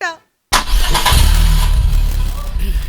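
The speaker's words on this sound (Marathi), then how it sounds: "गाडी सुरू करू? हा गाडी सुरू कर." A car engine cranks and catches after a brief silence, then runs in a steady rumbling idle, loud and close, with a short voice just before it starts.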